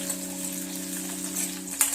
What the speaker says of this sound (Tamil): ஃபர்ஸ்ட் வெங்காயம் நல்லா வதங்கட்டும்.